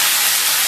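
Pumpkin pieces hit hot oil seasoned with panch phoron, producing a loud, close, steady sizzle that fills the whole short moment.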